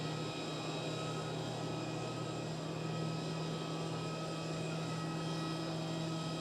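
Pegasus Airbus airliner passing at Schiphol Airport, a steady broad engine roar with tonal hum, sustained at even loudness throughout without talk.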